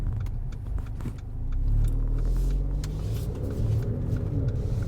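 A 2018 Mercedes-AMG GLA45 on the move, with a deep, steady engine and exhaust rumble heard from inside the cabin that swells slightly partway through, plus a few faint interior rattles.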